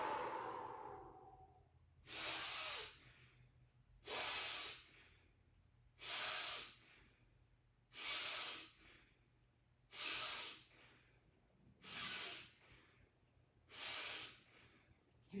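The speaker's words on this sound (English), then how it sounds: "let's just start breathing out all that we don't want through the mouth on 3" Slow breaths pushed out through the mouth, seven long airy exhales evenly spaced about two seconds apart, close and clear, with quiet pauses between them during a qigong session.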